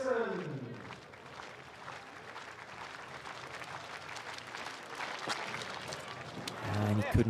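A stadium crowd at an outdoor athletics meeting cheers and claps steadily for a high jumper on his run-up, a dense wash of applause that swells toward the end, with a commentator talking over it.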